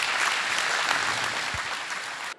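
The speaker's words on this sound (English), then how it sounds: "Let's give him another round of applause." An audience at a lecture event applauds with steady, dense clapping that holds for a couple of seconds and then cuts off.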